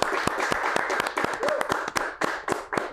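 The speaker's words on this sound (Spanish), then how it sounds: "Saludamos con un aplauso al constituyente, Jorge Arancibia." A small group applauds constitutional convention member Jorge Arancibia on an interview show: a handful of sharp, close claps in an uneven rhythm over a few seconds, with a faint voice in the background.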